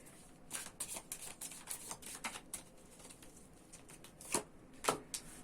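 Quick riffling and soft slapping of tarot cards being shuffled, in irregular bursts, close and fairly quiet, with no talking.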